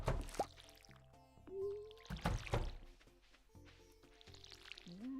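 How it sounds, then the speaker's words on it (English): Watering can in the video game Stardew Valley, an airy, ghostly tone that rises and swells as it charges, heard a couple of times between other soft game effects and chimes. "I love that the water can sounds like a ghost"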